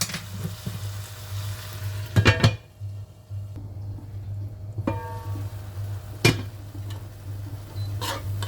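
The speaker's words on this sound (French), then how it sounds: "Et on laisse bien cuire hein, l'oignon, les tomates." Onions and tomatoes frying in a pan, a steady close sizzle punctuated by a few scraping stirs and clinks of a utensil against the pan.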